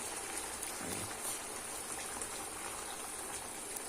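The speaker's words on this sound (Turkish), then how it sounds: "Ve şimdi de normalde şöyle sıcak suyumuzu gezdiriyorum." Hot water is poured over meatballs and tomatoes in a pan, a soft continuous splashing and sizzling wash that runs steadily throughout at low level.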